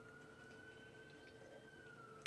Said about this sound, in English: Sorry if you guys hear sirens in the background.